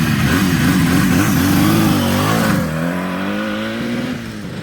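A Bridgestone 350 GTR two-stroke motorcycle engine revs hard nearby, a buzzy rising and falling drone that eases off toward a lower steady idle near the end.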